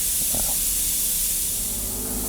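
Spray gun laying paint coats on an MGA 1600 Roadster, a steady close, loud hiss of atomized paint running continuously throughout with no talking.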